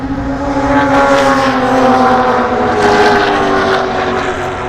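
Production sports cars racing through the final corner of a circuit, several engines droning together loudly with rising and falling pitch as they pass close by, no voices.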